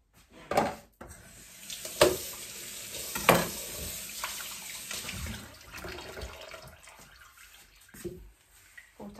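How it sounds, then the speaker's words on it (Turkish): Oranges rinsed under a running kitchen tap, water splashing and gushing in several louder bursts that fade into a softer trickle, close by with no talking. "portakallarımı da yıkayayım."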